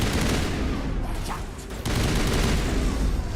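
Shotgun fire in the video game Mass Effect amid a dense, continuous barrage of game combat noise, loud and constant with overlapping blasts and no clear gaps.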